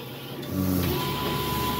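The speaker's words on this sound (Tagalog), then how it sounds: "High speed po ang printing natin guys, dahil i3200 po ang machine ginagamit natin." An i3200 eco-solvent printer runs at high speed, giving a steady close mechanical whir with a faint tonal hum that grows slightly louder partway through and stays constant.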